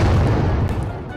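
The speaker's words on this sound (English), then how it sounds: "It's just an explosion now." An explosion in the giant-crab video game I am crab, a dense, loud low rumble that fills the short moment and fades slightly at the end.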